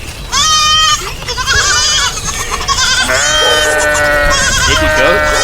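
Goat-like bleats, submitted within a song for music feedback during a livestream, arrive as loud, wavering cries layered over the music for most of the five seconds.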